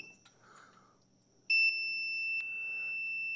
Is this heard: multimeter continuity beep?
yes